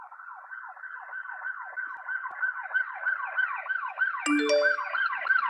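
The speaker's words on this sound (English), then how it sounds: "I'm just going to tap on police siren, this sound effect in iMovie" A police siren sound effect played from an iPad editing app wails in a steady, rapid rising-and-falling cycle, loud and clear throughout, with a short electronic alert chime near the end.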